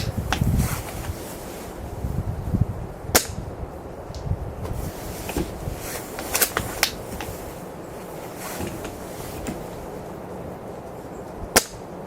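Strong wind gusts across an outdoor airsoft range, a steady rushing roar buffeting the microphone, with a few sharp cracks from a Silverback Desert Tech SRS rifle standing out over it.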